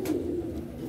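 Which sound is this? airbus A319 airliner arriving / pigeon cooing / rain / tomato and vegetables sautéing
pigeon cooing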